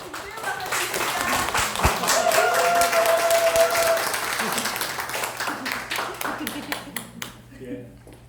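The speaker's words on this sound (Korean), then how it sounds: "박수로 모시겠습니다" Audience applause welcoming a speaker to a lecture on immunity, a sustained crowd clapping with some talk over it, tapering off toward the end.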